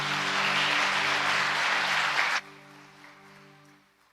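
Sustained applause from a church congregation fills the room, dense and steady, then cuts off sharply partway through, leaving a quieter tail with a low hum.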